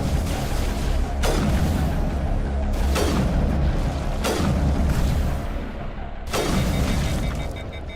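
Gunfire from the video game Mass Effect: about four heavy, booming shots land at uneven intervals, each loud and sharp with a rumbling tail over steady background noise, with no talking.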